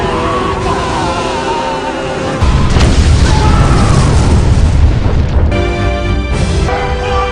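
A deep, heavy boom erupts and rumbles on for several seconds, loud and close, following a stretch of layered dramatic sound.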